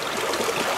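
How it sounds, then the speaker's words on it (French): Meltwater stream trickling across a glacier: a steady, close rush of flowing water, even and continuous through a brief moment with no voices. "Tu vas traverser même un ruisseau qui est sur le glacier."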